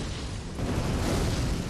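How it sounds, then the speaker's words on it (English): A massive fire orb bursts out as an area-of-effect explosion in Dark Souls III, a loud, dense roaring blast that swells and sustains for under two seconds with no talking. "Just this massive fire orb comes ripping out of you."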